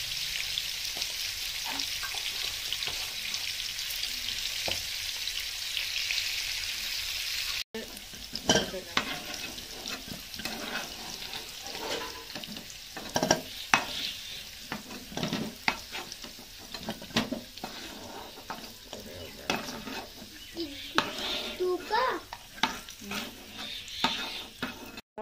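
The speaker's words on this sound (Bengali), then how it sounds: "আলু ভাজার সময় একটু লবণ দিয়ে দেবো।" Long cut potato pieces fry in oil and are stirred in a pan: a steady sizzle at first, then busier scraping and clinking stir strokes over continuous frying, with no voices.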